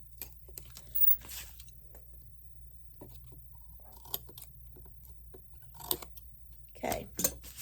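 Scissors snip around a Dollar Tree Christmas craft piece, faint, sparse clicks and cuts at close range in a quiet room, with a few sharper snips near the end.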